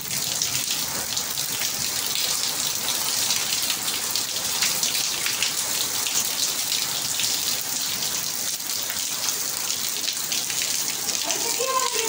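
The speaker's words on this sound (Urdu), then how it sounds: "بہت زبردست بارش ہو رہی ہے" Heavy rain falls steadily in front of a house in Quetta, giving a dense, even hiss of drops pattering on surfaces for the whole stretch, with no clear voices.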